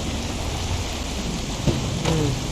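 Steady heavy rain in the video game Project Zomboid, a dense constant hiss with a low thunder rumble and a brief crack of thunder near the end, no voices.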